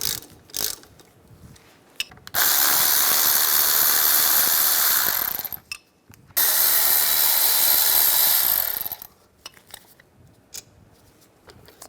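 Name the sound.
wrench removing brake caliper bolts on Mini Cooper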